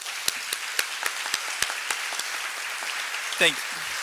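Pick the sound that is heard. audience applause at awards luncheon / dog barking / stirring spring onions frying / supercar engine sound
audience applause at awards luncheon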